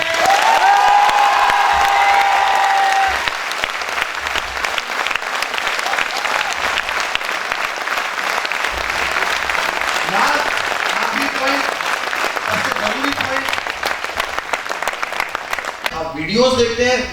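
Thunderous audience applause at a motivational seminar, a dense, steady roar of clapping that fades near the end as a voice resumes speaking.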